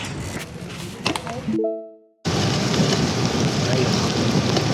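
Rain returning during a gravel bike ride outdoors: a windy, hissing wash of wind and rain, briefly cut off, then a loud steady downpour-like roar that continues to the end.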